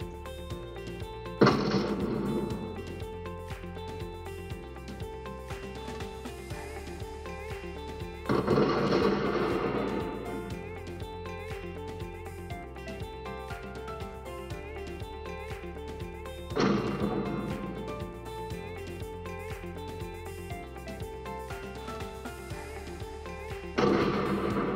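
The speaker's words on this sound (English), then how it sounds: "We'll start with the explosions." Explosion sound effects play back as four heavy blasts spaced several seconds apart over a continuous rumbling backdrop, used to test a security camera's sound classification.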